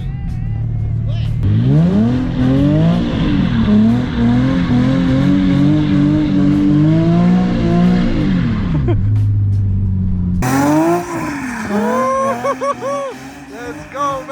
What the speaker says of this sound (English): Every time we try to drift this car, bro, I just really need to weld the diff.